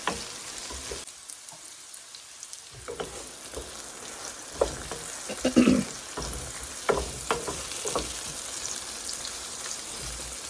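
Brinjal pieces with a little turmeric fry in a pan until browning. A brief hush gives way to steady sizzling, broken by irregular spatters and stirring knocks.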